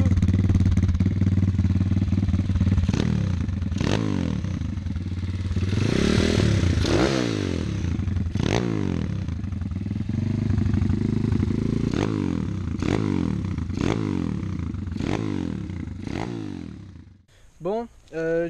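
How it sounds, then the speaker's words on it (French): Dirt bike motorcycle engine running and being revved repeatedly, each blip rising and falling in pitch over a rough idle with clattering, close by, and ending abruptly. "je vais faire aussi un petit récap du bruit de la moto quoi"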